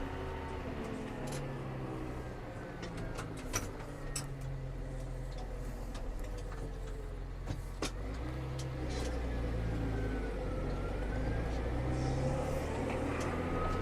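A Massey Ferguson 6485 tractor in good condition drives steadily in third gear, its engine a continuous low rumble heard from inside the cab, with faint ticks and rattles and a slight rise near the end.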